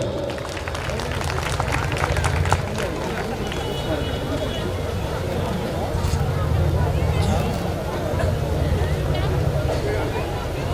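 An audience claps at a ceremony, a steady loud wash of applause that swells and eases over several seconds, with crowd chatter mixed in.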